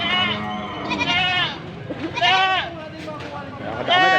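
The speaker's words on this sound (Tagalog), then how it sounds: "Kadaming kambing." Native goats gathered at a livestock sale bleat repeatedly in wavering, overlapping cries, some close and loud, as people talk nearby.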